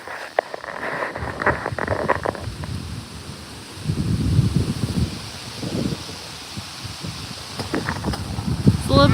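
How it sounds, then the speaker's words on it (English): Gusty evening wind moving through trees along a wooded trail, rising and falling in broad rustling surges with some microphone buffeting, fairly close and steady throughout. "It's a little bit windy here tonight."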